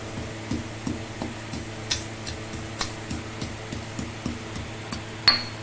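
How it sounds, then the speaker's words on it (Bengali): Steady rhythmic knocking and scraping as spices for mutton do pyaza are ground fine by hand, repeated strokes about twice a second, close and fairly quiet with no talking. "আস্তে আস্তে আমি এটা পিষে নিচ্ছি"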